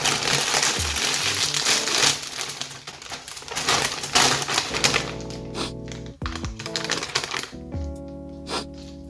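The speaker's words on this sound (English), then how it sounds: "here I go opening this bag of chips, during which I will not talk, so that I'm audible over the crinkles" Kettle chips bag being opened and handled, with dense crinkling and rustling of the plastic bag throughout, close and fairly loud, with some sharper crackles and pauses in the second half.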